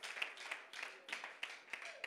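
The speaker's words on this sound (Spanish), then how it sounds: "Dale un fuerte aplauso al Señor Jesucristo" A church congregation applauding, fairly faint and rhythmic, with clapping bursts in a steady pulse and no voices over it.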